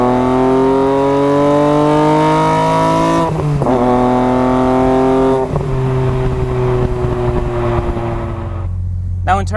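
BMW M3 inline-six with an Evolve carbon airbox at full throttle, a loud climbing intake howl through three rising pulls separated by brief gear changes, fading near the end as the revs drop.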